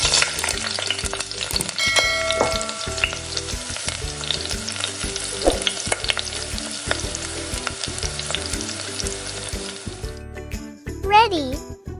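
Fish frying in hot oil gives a steady, close sizzle and crackle that runs throughout, mixed with background music and a faint voice.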